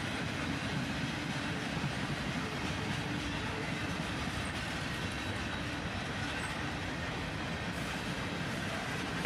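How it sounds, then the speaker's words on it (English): A long freight train rolls steadily past, including old chassis system boxcars, with a continuous loud rumble and faint wheel clatter throughout and no voices. "And then, just a few moments later here, a second chassis system boxcar."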